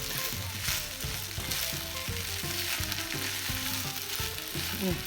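Steady, loud sizzling of food frying in a hot pan, with continuous stirring and scraping underneath.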